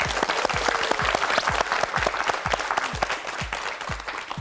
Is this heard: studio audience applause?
yes